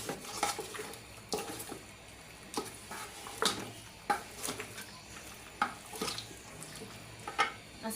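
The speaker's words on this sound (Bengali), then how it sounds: "এখন ঢাকনা দিয়ে ভালো করে নাড়ু দিয়ে মিশিয়ে দিই।" Beef curry is stirred in a pot with a utensil, bringing intermittent scraping clinks and knocks against the metal every second or so over a soft background sizzle.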